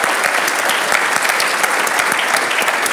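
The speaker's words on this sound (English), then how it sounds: "Please join me in a round of applause for our three panelists." Audience at a monetary policy panel applauding three panelists: a dense, even round of clapping filling the room at steady loudness throughout.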